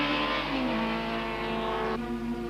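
Touring cars in the 1995 Super Touring Car series race past at Zwartkops circuit, a loud, close engine roar holding steady before the pitch drops suddenly as one car passes, with no talk over it.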